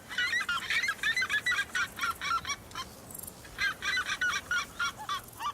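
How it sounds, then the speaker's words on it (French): Red-legged seriemas call loudly at daybreak, a rapid series of harsh, yelping honks in repeated bursts with brief pauses, clear and fairly close over steady ambient noise. "Lorsqu'un cariama huppé se sent provoqué dès le point du jour, il donne de la voix."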